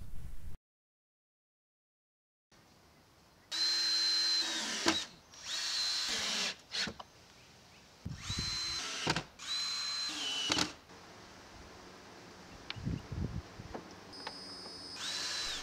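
A power drill drives screws into siding panels on a porch-to-sunroom build, whirring in several loud bursts of a second or two each, separated by short pauses and handling knocks.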